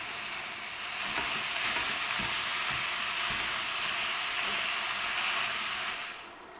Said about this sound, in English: I'm going to add the mince now. Just break that up so it fries nice and even.